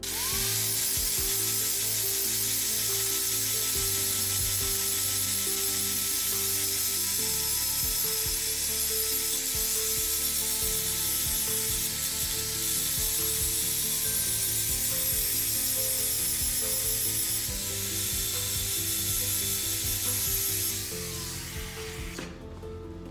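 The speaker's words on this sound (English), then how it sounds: "we can take it to an angle grinder and get that even better" An angle grinder works steel plate to strip mill scale and rust before welding, giving a loud, steady, high-pitched abrasive whine that runs almost without break for over twenty seconds, then cuts off near the end.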